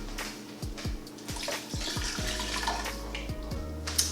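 Plant-based coconut milk pours steadily into a container in a continuous close liquid stream with light splashing and a low background hum.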